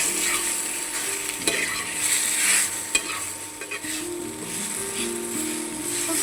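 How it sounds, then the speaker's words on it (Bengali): Pieces of chalta (elephant apple) seasoned with salt and turmeric fry in a pan with a steady close sizzle, while a utensil stirs and scrapes through them in irregular bursts and light knocks. "নুন দিয়ে দেবো, একটু হলুদ দিয়ে দেবো কালারের জন্য। এবার আমি এটাকে ভেজে নেব।"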